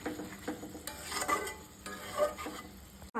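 Potato curry sautés in a pan while a spoon scrapes and stirs it. A soft, continuous sizzle runs under the stirring, and a sharp knock comes right at the end.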